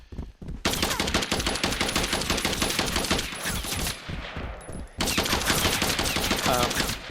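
Rapid sustained machine-gun fire in a video game rattles loudly and continuously, with a brief drop in intensity before another dense burst resumes.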